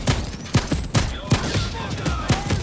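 Repeated gunfire in Payday 2, sharp close shots spaced roughly every half second in a steady rhythm, with game noise between them.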